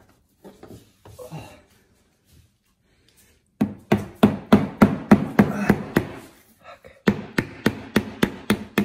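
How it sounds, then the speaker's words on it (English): A hammer drives a nail with a quick run of sharp, loud knocks, then more blows after a brief pause. Scattered talk and handling noise come first, with no strikes. "give me that nail and hammer"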